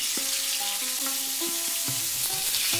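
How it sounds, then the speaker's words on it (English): Hilsa fish frying in hot mustard oil, a loud, steady sizzle with short tonal squeaks and clinks from the pan running through it, close by and with no talking. "Now I will add the fish and fry it until it is light brown."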